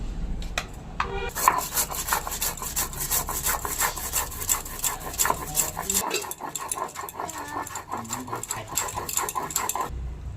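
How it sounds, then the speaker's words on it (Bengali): Mustard seeds, a green chili and salt are ground into a paste with steady, dense scraping and rubbing strokes that run close and continuous for the whole stretch, with no voices. "বড় চামচের 2 চামচ সর্ষে, একটা কাঁচা লঙ্কা আর অল্প একটু লবণ দিয়ে বেটে নেব।"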